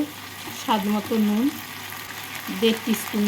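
Chicken pieces fry with spices while being stirred in a pan, a soft background sizzle heard beneath a voice that talks across most of the moment.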